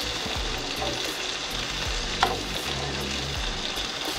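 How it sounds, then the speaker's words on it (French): Salmon fillet frying in butter with rosemary and garlic, a steady close sizzle and crackle with a small clink partway through and no talking. "On prend toute la saveur du romarin et de l'ail avec le beurre qu'on ajoute sur le saumon."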